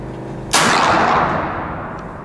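A single sharp shot from a Sumatra 6.35 mm air rifle cracks out about half a second in, followed by a lingering decaying ring, with quiet background before it.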